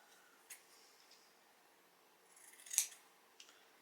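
Scissors cutting a piece of material for a snowman hat brim in a spindle snowman craft: a few faint snips spaced apart, then one louder, crisp cut near the end, in a quiet room.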